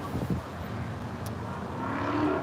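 A car engine hums as a faint, low rumble in the distance, swelling slightly toward the end, with no talking.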